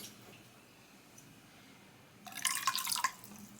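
After a stretch of quiet, a thin stream of room-temperature water splashes into a bowl of yeast mixture for vegan toffee pear buns, a close, bright pour that lasts about a second before stopping.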